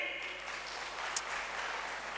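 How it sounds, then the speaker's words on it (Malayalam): An audience at a school summer camp closing ceremony claps early, producing a faint, steady patter of applause from a crowd at a distance, with one brief sharp clap standing out midway. "ഞാൻ പറയുന്നതിന് മുമ്പ് കൈയടിച്ചത്."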